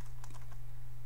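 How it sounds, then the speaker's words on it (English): Typing on a computer keyboard: a brief cluster of a few quick, light keystrokes over a steady low electrical hum, with no talking. "I'm just going to type in Computerfy Twitter"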